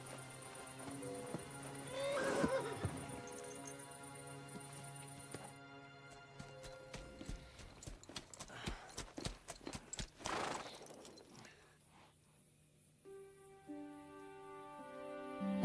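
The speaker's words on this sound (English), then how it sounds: "There definitely sounds like there's horses in this building." Horses inside a building in the video game Kingdom Come Deliverance II, with a whinny, snorting and repeated clip-clop of hooves shifting on the floor, ending in quieter stamping.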